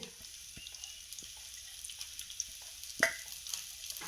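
Curry leaves crackle in hot coconut oil in a clay pot, quiet scattered pops and a soft sizzle with one sharper spatter near the end, no talking.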